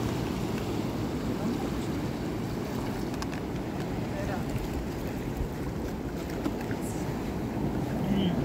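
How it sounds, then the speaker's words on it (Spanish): A motorboat on an estuary runs past under strong wind noise, giving a steady low rumble that stays at moderate distance. Faint voices can be heard over the water. "Ahí va la lancha con todo."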